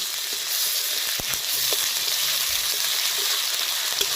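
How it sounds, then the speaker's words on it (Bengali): Onion fries in hot oil with ginger-garlic paste added for a homestyle cauliflower roast. A continuous close sizzle runs throughout, with a few soft utensil knocks and stirring sounds partway through. "পেঁয়াজটা খুব বেশি ভাজবো না। এবার এর মধ্যে দিয়ে দিচ্ছি আদা রসুনের পেস্ট।"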